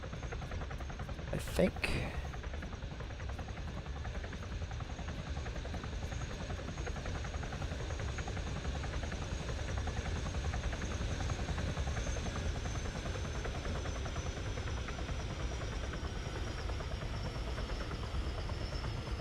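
A helicopter in the Open Warlords video game lands on the back of a destroyer, a steady droning rotor whine running throughout at even loudness, with a brief voice heard once over it.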